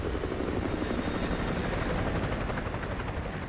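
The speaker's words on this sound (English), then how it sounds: "Enemy helo patrolling the perimeter." An enemy helicopter patrols overhead in Modern Warfare 2 Remastered, its rotor making a loud, steady, continuous drone with no breaks and no voices.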